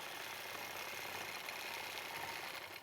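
A sewing machine stitching a quilt along a ruler runs as a steady, continuous mechanical hum with dense rapid stitching throughout, fairly loud and close, with no talking.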